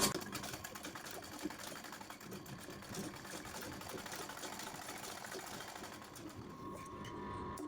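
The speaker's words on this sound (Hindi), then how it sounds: "यहाँ से पहले हम एक गुम सिलाई मारेंगे।" A sewing machine stitches a blouse, a steady continuous mechanical whir and rattle running alone from start to finish at even loudness.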